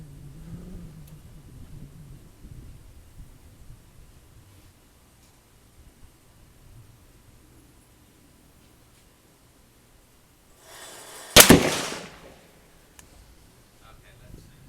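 A single loud rifle shot from a Kel-Tec RFB bullpen rifle during an accuracy test at a range, a sharp crack with a brief decaying tail standing alone amid quiet background.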